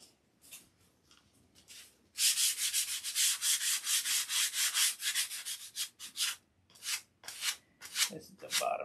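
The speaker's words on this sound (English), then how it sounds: "Let's sand it." Hand sanding on a dope-coated silkspan surface, starting with a few light strokes and then rapid, loud, rhythmic rasping back-and-forth strokes that slow into intermittent bursts near the end.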